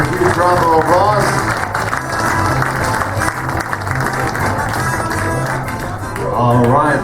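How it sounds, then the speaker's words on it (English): Audience applause for hypnotist Mark Anthony after his comedy hypnotism stage show, a steady wash of clapping that runs the whole time beneath music and voices, swelling again near the end. "Give him a huge round of applause."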